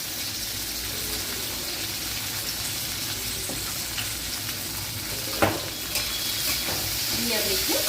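Ginger, tomato and green chillies fry in a pan for methi matar malai, giving a constant loud sizzle with scraping stirring strokes and a few sharper clinks toward the end.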